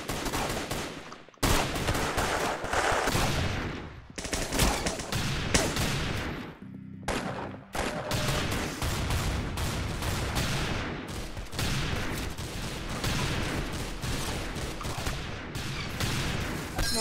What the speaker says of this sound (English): Oh. This is like a future gun.